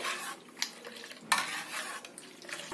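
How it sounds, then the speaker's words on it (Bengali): A spoon stirs sour curd into milk in a steel bowl, producing quick scraping swishes and light metallic clinks, close and fairly soft, with no voices. "বাটির দুধের মধ্যে ভালো করে নাড়তে হবে"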